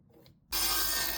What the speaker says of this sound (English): So I cut with the line, I cut that off